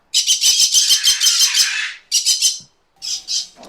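A green-cheeked conure lets out loud, close, harsh squawks in rapid pulsing bursts: one long chattering run, a shorter group, then two final squawks, with quiet gaps between.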